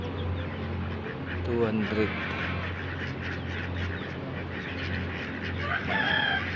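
Chickens and ducks clamor inside a coop holding about 200 birds, with clucks, quacks and a crow-like call mixing into a continuous nearby din as someone speaks over it.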